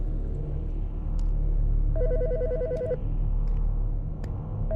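An old-style telephone rings in the game Autopsy Simulator, with one clear electronic ring burst in the middle and the start of another at the end, over a low rumbling ambient hum.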